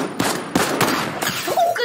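Gunfire in the video game Fortnite, played in a beach invasion mode, comes as a few sharp, loud shots in quick succession over a busy game soundscape, with no talking.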